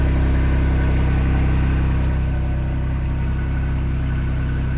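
A Ford Bronco engine idles through its stock exhaust and muffler, a loud, steady, close low rumble with an even pulsing beat that holds without revs or voices.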